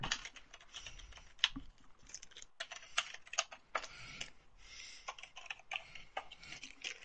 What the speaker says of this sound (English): He's typing.